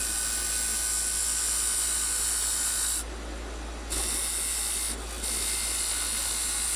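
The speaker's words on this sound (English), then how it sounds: "I'm using a parting tool for this instead of my skew because the skew will tear the fibers" Parting tool cutting into a wooden chess pawn spinning on a wood lathe, giving a steady loud hissing whine with two short pauses where the cut lifts off.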